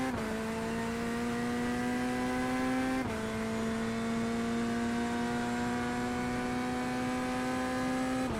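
A GT3 race car engine at Imola in the iRacing sim drones steadily at high revs with a sharp gear shift partway through, then holds a constant whine, loud and alone without talk.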